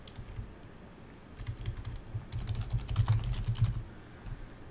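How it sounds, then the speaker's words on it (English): Typing on a computer keyboard while editing a converted Word document, a steady run of soft, close key clicks building in a burst over a quiet room. "I can just go ahead and type whatever I want."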